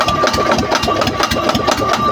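A stalled boat engine being started, a close, loud mechanical chugging with a rapid, steady knocking rhythm throughout, alone with no talk.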